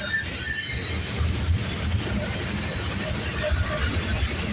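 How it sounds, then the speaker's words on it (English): A loaded CSX Herzog rock train rumbles past beneath the I-26 highway, a steady low roar of rolling cars and wheels with faint squeals, continuous and moderately distant. "Herzog rock train."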